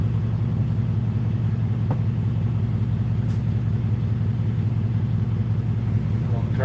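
A truck engine idles steadily and close by, a constant low rumbling drone with no pauses throughout.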